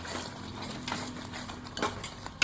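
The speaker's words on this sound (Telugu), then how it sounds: "మనం బాగా మిక్స్ చేసేసుకొని" A spoon works turmeric, salt and chili powder into a cashew paneer curry in a pan, giving soft, steady scraping and light clinks at low volume.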